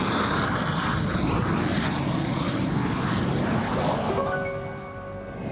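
A Heinkel He-178 jet aircraft in flight makes a loud, sustained engine roar. Near the end the roar fades and a few steady tones take over.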